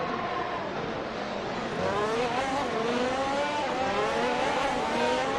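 A Ferrari Formula 1 race car in a racing game at Horsma Raceway: a high, steady engine whine climbing and shifting in pitch as it runs at speed, loud and continuous with no voices.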